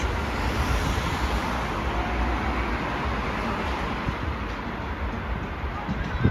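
A tram on the Bursa T2 line in motion, heard as a steady, dense rumble and rush of moving-vehicle noise that holds at an even level throughout.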